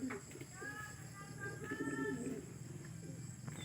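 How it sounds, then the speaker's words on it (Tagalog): Racing pigeons coo steadily during a land training session, soft repeated throaty calls over outdoor ambient noise, with a few bird chirps and faint background voices. "Yan mga kalapatids."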